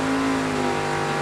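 An '84 Monte Carlo drag car at a Super Pro bracket race, its engine a loud steady roar with a strong tone that holds through the short moment, close and continuous.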